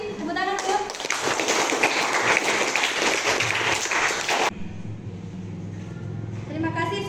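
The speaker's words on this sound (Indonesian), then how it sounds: "Tepuk tangan, Bu." Classroom applause: a burst of many hands clapping fairly loudly for a few seconds, then stopping abruptly, with a voice speaking over the background afterward.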